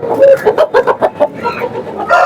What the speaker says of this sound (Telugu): రకరకాల జాతి పుంజులు అయితే వస్తూ ఉంటాయి